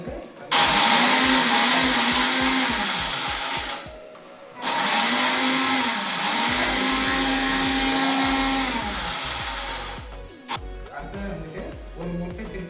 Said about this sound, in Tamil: இது மூடி மிக்ஸியில் வச்சு அடிக்க வேண்டியதும்